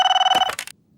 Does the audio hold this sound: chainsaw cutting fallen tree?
no